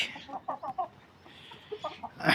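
Short, soft clucks from a few laying hens come in small bursts, with a brief louder squawk near the end over faint background noise.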